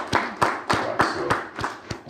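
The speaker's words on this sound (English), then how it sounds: "let's just clap for them again" Sparse, rhythmic hand clapping from a small seated audience honouring a discussion panel, about eight distinct claps over two seconds, moderately close and with no talk over it.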